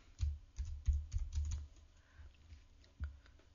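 Someone types on a computer keyboard, a handful of soft, close key taps in uneven quick clusters with short pauses between them.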